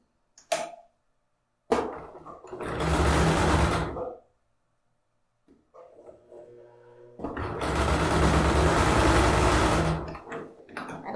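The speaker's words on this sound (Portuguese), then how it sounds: "E aí, costurar na linha de novo." Sewing machine stitching fabric for a zippered bag, running in two loud close bursts of about two and a half and four seconds, with a short click at the start and quiet handling of the cloth between runs.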